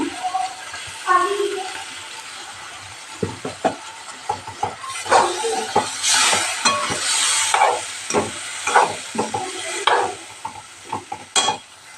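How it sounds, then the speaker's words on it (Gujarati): Lentils hit a hot pan and sizzle, followed by stirring and scraping with bursts of hiss; a voice speaks briefly near the start. "આપણે દાળ નાખી દઉં."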